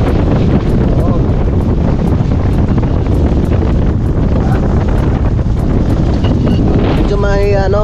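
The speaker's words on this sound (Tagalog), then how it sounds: "kalakasan yung alon ngayon dito mga kautol, no?" Strong wind blows across a lake with whitecapped waves at a fish farm, a loud continuous rushing that buffets the microphone, with a voice speaking near the end.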